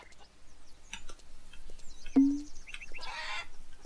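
A few sparse, quiet clucks and chicken-like calls from a farming video game, with a brief tone and clicking, mostly faint against near silence.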